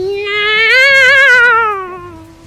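A voice imitates a cat's meow in one drawn-out, wavering cry that rises, holds and then falls away over about two seconds, close and fairly loud.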